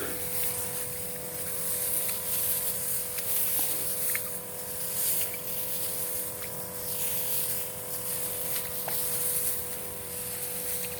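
Steady hissing spray from a motorized sprayer spraying a rice field runs continuously, with a droning engine hum and faint tonal whine underneath.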